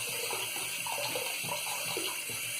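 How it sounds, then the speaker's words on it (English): Cold water runs steadily from a tap to soak a small Omega 10075 boar shaving brush, a continuous loud splashing stream filling a sink without pause. "so I put on more cold water. And gonna soak this brush a bit in that water."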